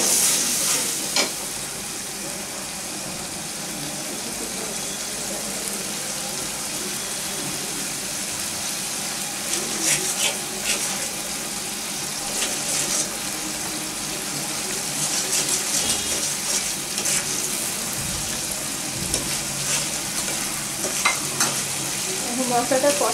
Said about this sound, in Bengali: এখন মশলাটা কষা দিব